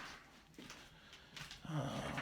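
A dog makes low snorting, growling noises at feeding time, faint and close, a few short bursts building toward the end.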